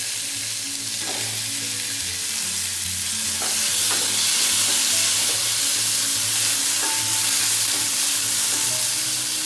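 Chopped tomatoes are dropped into a hot pan for a raw mango and prawn curry with roasted coconut, giving a steady, close sizzle of frying with faint stirring scrapes and no talking.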